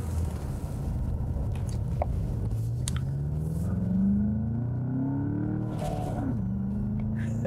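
Engine and intake of a 2019 Volkswagen Jetta GLI with a manual gearbox, heard from inside while driving on the road, a steady rumble that climbs in pitch through a gear, drops at a shift and then rises again, close and continuous.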